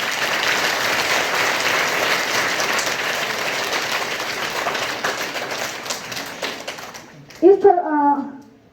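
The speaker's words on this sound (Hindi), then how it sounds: "एक बार जरा जोरदार से तालियां हो जाए" An audience at an Ashura school function gives loud, sustained applause for a little girl, dense clapping for about seven seconds that stops abruptly, followed by a voice over a microphone.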